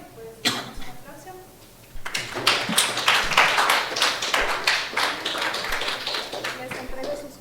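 An audience at an urban history forum breaks into applause after a short pause, a few early claps followed by several seconds of steady, moderately close clapping.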